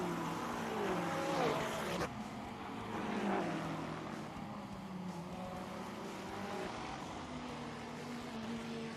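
GT3 race cars, including a Ferrari and a Bentley, run at the Norisring street circuit, their engines a steady distant drone with pitch sweeps as cars pass, all fairly faint.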